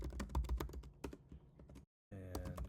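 Fast clattering keystrokes on a computer keyboard while programming, in steady bursts with a brief silent pause before the typing resumes.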